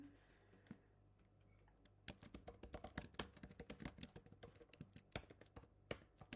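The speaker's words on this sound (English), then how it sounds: "This is as easy as typing the address here." Rapid clicking of keys on a computer keyboard, starting after a quiet moment and continuing in irregular bursts, close to the microphone.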